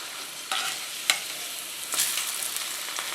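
Food sizzles steadily in a hot cast iron pan while it is rubbed around the bottom, with a few louder scraping bursts breaking through the constant frying hiss.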